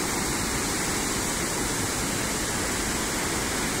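A large river flows beneath a big bridge, its steady, dense rushing roar continuous and close throughout, with no voices.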